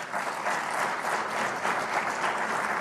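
An audience applauds a speaker, a dense, even clatter of many hands clapping at once that holds steady for the whole stretch, with no voice over it.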